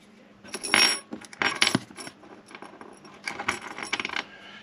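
Metal clinks and scrapes as a compression nut and split olive are fitted onto a cut pipe on a heating and underfloor plumbing job, several short close bursts with quiet gaps between them.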